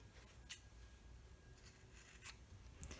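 Scissors snip through fabric corners near a sewn seam, trimming close to the stitching; three short, crisp cuts stand out against a quiet room background.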